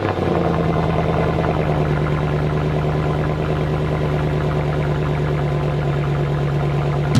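A car engine idles steadily close by, a continuous even mechanical hum with a faint rhythmic ticking, heard alone with a small bump at the very end.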